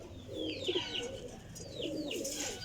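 A Teddy Golden pigeon coos nearby in soft, repeated rolling phrases, two bursts of cooing separated by a short pause, with a faint background hiss.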